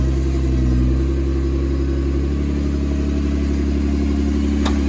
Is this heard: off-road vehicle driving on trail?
yes